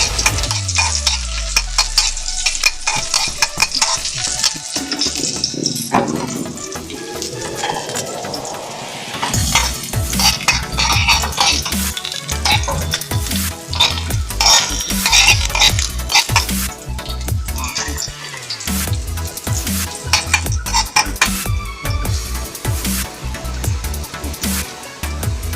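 Lechon paksiw with onions stirred and sizzling in a pan, a utensil scraping and clinking against the metal in a busy, continuous rhythm, close and fairly loud, with no talk.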